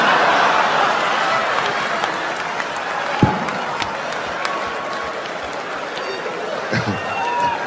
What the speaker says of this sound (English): And the crowd went crazy